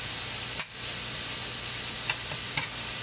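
Scaly polypore mushrooms frying in a pan make a steady, dense sizzle throughout, broken by a few brief clicks and scrapes of stirring, close and fairly loud with no talk.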